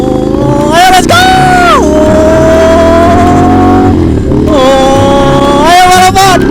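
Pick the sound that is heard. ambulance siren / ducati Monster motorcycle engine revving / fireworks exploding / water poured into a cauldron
ducati Monster motorcycle engine revving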